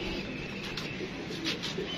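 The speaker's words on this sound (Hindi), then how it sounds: "भोले भाई का भी एक कबूतर है" A racing pigeon sitting outdoors gives soft, low cooing over a steady background hiss, faint and close, with no talk.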